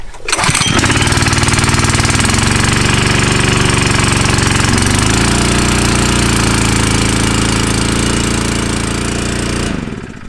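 A small pressure washer engine, choke on and throttle at half, catches after a brief pull and settles into a loud, steady buzzing run for several seconds before cutting off abruptly at the end.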